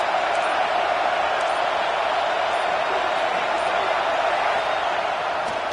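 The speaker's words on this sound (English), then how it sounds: "They challenge this crowd to bring the energy, and I'd say they're doing that." A football stadium crowd of Gator fans roars in a steady, dense wash of cheering that holds at full volume throughout, with no gaps or distinct voices.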